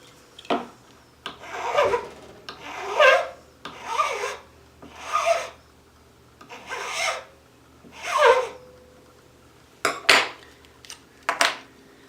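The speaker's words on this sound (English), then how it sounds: "you'll see there are little tiny burrs on there from filing it" Hand filing on a sterling silver bangle wire: a series of rasping scrape strokes in an irregular rhythm, close up and moderately loud, with short pauses between strokes and a few quick strokes toward the end.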